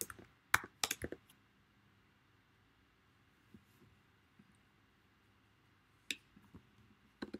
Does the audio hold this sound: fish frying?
no